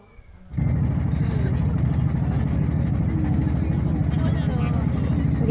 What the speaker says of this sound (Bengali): নৌকার মধ্যে বসে আছি আর ভিডিও করতেছি।